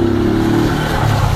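A 150cc motorcycle engine revs briefly nearby, a buzzing mid-pitched drone that holds steady and then drops slightly in pitch over about a second and a half.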